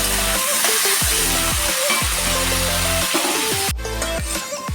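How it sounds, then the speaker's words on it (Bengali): Potatoes fry in hot oil with a continuous loud, close sizzle and crackle, while tonal music plays underneath. "আমি আগে একটু আলুটাকে ভেজে নিচ্ছি"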